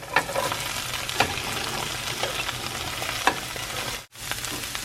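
Cabbage stir-fried with garlic in a hot pan for soba noodles, a dense continuous sizzle with intermittent spatula scrapes and taps, cutting out for an instant before resuming.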